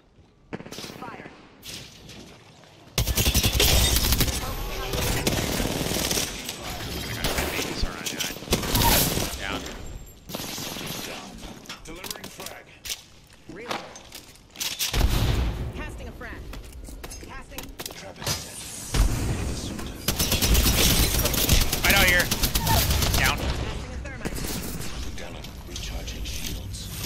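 Dense bursts of video-game gunfire ring out in a sustained volley after a shouted order to fire, loud and close, with players' voices talking over and between the shots.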